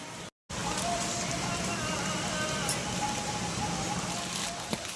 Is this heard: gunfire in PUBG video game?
no